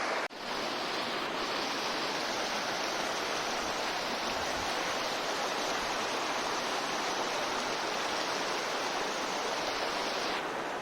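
The Doodh Ganga river flows over its stream bed in a steady, loud, broadband rush of water that stays constant and close throughout, with no voices.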